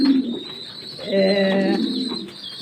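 Domestic pigeons coo close by in repeated soft, throaty phrases that overlap each other, with a low rumbling murmur running continuously through the short stretch.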